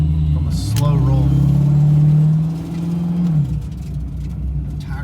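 An automatic Foxbody Mustang with an N51hr cam rolls on from low speed, its engine note climbing and swelling loudly before easing off, with a voice briefly over the start.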